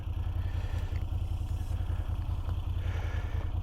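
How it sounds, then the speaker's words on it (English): A V7 V-twin motorcycle engine runs steadily at idle close by, with a deep, even low throb and a light mechanical clatter on top throughout. "Feel that V-twin shake the bike, just move it a little left and right with the pistons going"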